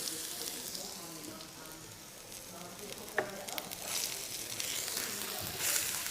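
Garlic sizzles and fries steadily in a very hot wok with a little sesame oil, a dense continuous crackle with a sharp clink partway through, close and alone.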